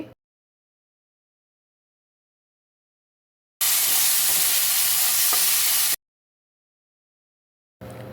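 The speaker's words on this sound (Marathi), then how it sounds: "टोमॅटोचा कच्चेपणा जाईपर्यंत आपल्याला त्याला थोडासा परतायचा आहे" Onion and chopped tomato sautéing in a pan, a close steady sizzle for about two seconds between stretches of silence, with a brief burst of sizzling at the start and end.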